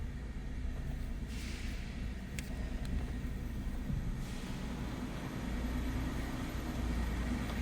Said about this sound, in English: you can barely hear this car run